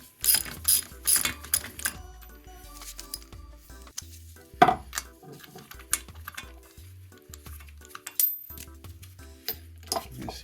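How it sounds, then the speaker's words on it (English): Ratchet clicks from an ordinary socket, not a spark plug socket, loosening the spark plug on a 2005 Honda CRF150F dirt bike, coming in irregular close bursts of rapid clicking with pauses and clanks between. "we're going to go ahead and take the spark plug out"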